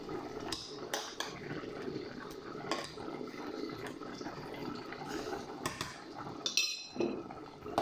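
A spoon stirs food in a cooking pot for a low-carb meal, turning the bottom layer up so it doesn't burn. Soft scraping and scattered clinks of metal against the pot sit close by over a low simmering background, with no talk.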